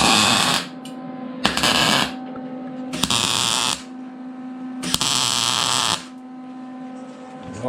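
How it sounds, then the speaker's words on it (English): Welding on the box of a 1952 Studebaker 2R5 half-ton truck, filling holes in four separate bursts of harsh crackling arc hiss, each a second or so long, with a steady electrical hum between them and no talking. "Welding up some useless holes."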